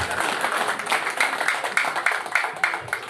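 Audience at a Pemuda Pancasila gathering in Bandung applauding, a soft, steady patter of many hands clapping at moderate distance, without a break.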